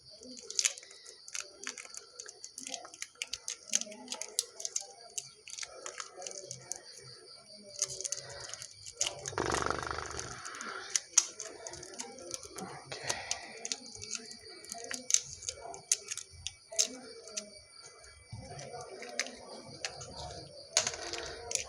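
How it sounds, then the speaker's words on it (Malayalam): Clear sticky tape crackles and rips in short irregular bursts as it is wound around a homemade torch, close and quiet, with a longer unspooling screech partway through. "Sello tape ചുട്ടിയാണ്."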